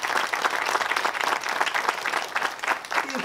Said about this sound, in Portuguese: uma salva de palmas, coisa linda.